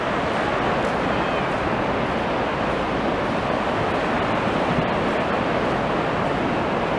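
Sea waves wash onto a shore in a steady, continuous roar of surf, with wind noise buffeting the microphone throughout and no voices.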